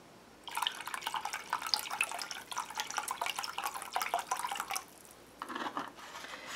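Hydrogen peroxide being poured, a close trickling liquid stream with a brief break near the end before it resumes.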